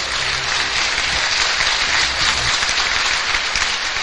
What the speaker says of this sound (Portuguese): E eu gostaria que vocês aplaudissem a minha irmã que mora aqui.